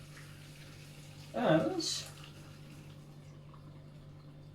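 Hot water from a kettle splashes over spinach in a short, soft pour of under a second, faint against a steady low background hum.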